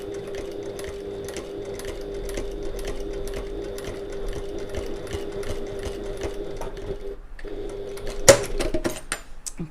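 A sewing machine stitches a two-tone leather strap, running in a long, even, rapid mechanical patter. It pauses briefly near the end and is followed by a few handling clicks, close by, with no voices.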